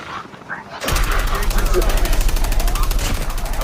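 Rapid automatic gunfire in Call of Duty Mobile, a loud sustained burst of evenly spaced shots starting abruptly and continuing to the end, with players talking over it.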